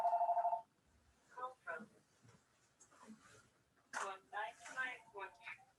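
A telephone rings in a quick series of pulsed electronic tones at the very start, then stops; a person talks quietly afterward in an indoor room.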